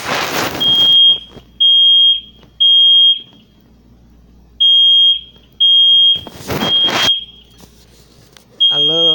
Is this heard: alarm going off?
yes